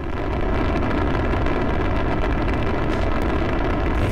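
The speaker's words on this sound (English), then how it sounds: "That's actually the sound of the space shuttle taking off." Space shuttle taking off, a loud, dense, continuous low rumble with roaring noise throughout and no pauses.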